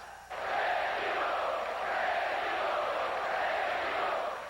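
Palmeiras football crowd in a 2002 Brazilian league match chanting a player's name, a loud, sustained wall of massed voices rising suddenly and holding steady throughout.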